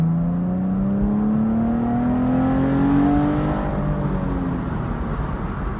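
A Chevrolet Camaro accelerating, its engine note rising steadily in pitch as it pulls, with heavy wind rush over an open window throughout, close and loud.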